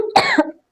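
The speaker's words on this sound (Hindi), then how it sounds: "सॉरी, मुझे भी थोड़ी खाँसी आने लगी है" A single person coughs once, a short harsh burst followed by a brief throaty tail, close and clear with no talking.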